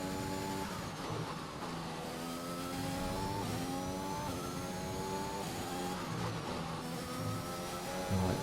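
Formula 1 race car engines in the F1 2021 video game, with a Porsche team car on the Russia circuit, howl in a continuous high-revving drone that shifts as the engines climb through the revs, loud and steady with no talk.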